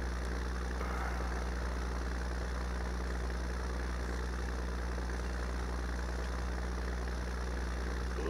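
A small, weak tractor engine strains under load in Farming Simulator 19, with a steady, loud, low drone that keeps up throughout and no talking.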